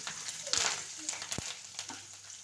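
Five green chillies and curry leaves fry in hot oil while upma is being made, giving a close, steady sizzle with a couple of sharp pan clinks over just a few seconds.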